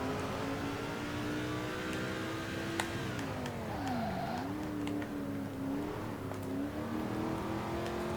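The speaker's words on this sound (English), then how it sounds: "Having to shift down to 4th just to try and get the revs back up." A NASCAR stock car engine in the video game NASCAR 2005 drones steadily at high revs during a race at Martinsville, the pitch dipping and climbing again as it shifts down and pulls back up.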